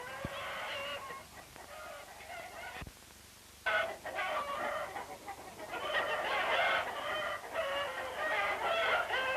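A large flock of hens on an egg farm clucks and squawks in busy overlapping bursts, with a brief lull before the chatter swells again, moderately close.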